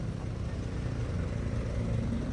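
A mini dump truck engine idles steadily at close range, a low, even rumble with no breaks and no voices.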